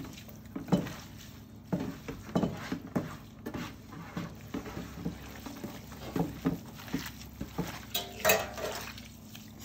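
Grain mustard being mixed through picked ham hock in a bowl, with soft wet squelches and irregular clinks of a utensil against the bowl, close and fairly quiet.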